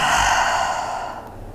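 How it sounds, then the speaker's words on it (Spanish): A single forceful lion's breath exhale during a yoga energy flow, a strong breathy rush through an open mouth that fades out over about a second and a half, alone without talk. "Le vamos a agregar respiración de león aquí también."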